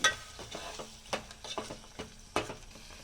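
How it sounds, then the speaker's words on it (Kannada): A spoon stirs ground masala in a pan for a horse gram sambar, giving close, low sizzling with irregular scrapes and knocks against the pan over a few seconds, no voices. "ಹಾಕ್ಕೊಂಡು ಚೆನ್ನಾಗಿ ಒಂದ್ಸರಿ ಮಿಕ್ಸ್ ಮಾಡ್ಕೊತಾ ಇದ್ದೀನಿ"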